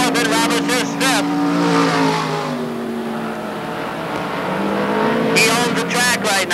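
Race car engines roar around the Can-Am Speedway track at a 1989 race, their pitch rising and falling as cars pass, loud and continuous beneath an announcer's running commentary.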